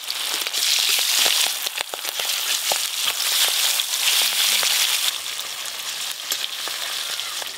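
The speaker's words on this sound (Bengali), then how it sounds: "তুমি এবার মাছগুলো একটু ভাজো" Fish fries in hot mustard oil with a steady, dense sizzle and crackle throughout, close and fairly loud, with scattered pops and spits and no talking.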